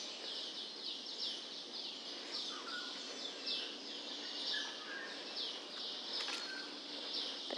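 Birds calling along a mangrove boardwalk in Singapore, a dense repeating high chirping chorus over a steady ambient hiss, with a few lower short calls mixed in and no voices.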